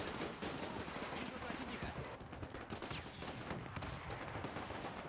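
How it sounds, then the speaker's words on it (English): Anti-tank gun fire in the World War II strategy game Men of War 2, a loud dense barrage of booming shots mixed with rattling small-arms fire throughout, with voices faintly present in the mix. "That is an AT gun."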